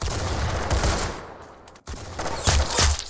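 Rapid gunfire in the Roblox game Arsenal, dense loud bursts of shots that fill the first half, break off for a moment, then resume with heavier blasts.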